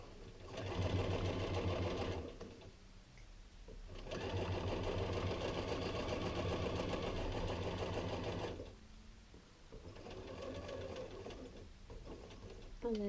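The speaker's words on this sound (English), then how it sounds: "So I need to sew just as far as that line." A sewing machine stitches a short seam in fabric up to a marked quarter-inch line, running steadily in two long bursts with a brief pause between them, close and fairly loud, followed by a shorter, quieter run.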